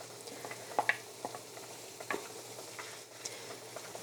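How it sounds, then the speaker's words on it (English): Leeks sauté in two tablespoons of melted butter while being stirred. A soft, quiet sizzle carries short scraping and clicking stir strokes, with no talking. "And stir them around, coat them with butter."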